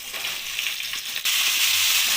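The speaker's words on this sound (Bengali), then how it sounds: "শিমটা টমেটো আর পেঁয়াজের সাথে ভালো করে ভেজে নেব।" Sliced flat beans fry with tomato and onion in a pan, giving a steady loud sizzle that jumps sharply louder about halfway through as more hits the hot oil, with no talking.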